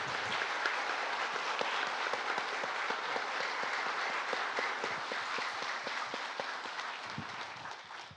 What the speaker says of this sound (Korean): 우리 모두 상임 고문님께 축하의 박수를 좀 주시기 바랍니다